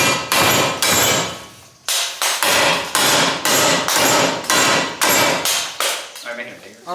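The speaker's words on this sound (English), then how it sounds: "we're gonna use a hammer to spread it apart" About ten loud metallic hammer blows ring out against the exhaust pipe of a 2023 Camaro 2SS in a steady rhythm, with a brief pause after the first few strikes.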